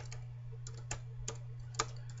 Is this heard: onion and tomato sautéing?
no